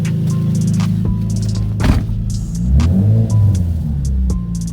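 A Infiniti G35 engine fitted with new solid motor mounts idles with a steady low throbbing rumble, close and loud, swelling briefly as it is revved before settling back, with a few faint clicks and no talk.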